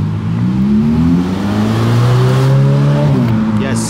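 A Ferrari sports car engine rumbles and revs on a Tokyo street, loud and close. The pitch rises steadily for a few seconds, then drops back.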